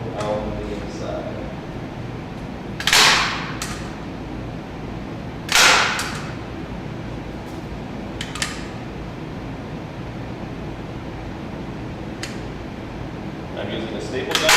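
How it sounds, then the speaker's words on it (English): A staple gun fires 3/8 staples into upholstery fabric, giving a few sharp, isolated snaps spaced several seconds apart, close by over a steady background hum. "I'm using a staple gun with 3/8 staples."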